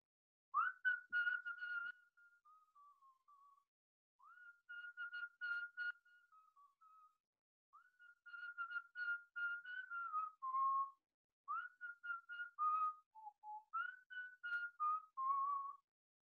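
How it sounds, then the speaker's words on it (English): One person whistles a well-known children's song alone, with clear, tuneful phrases in four or five short bursts separated by brief pauses. No one speaks. "I'm going to whistle it again"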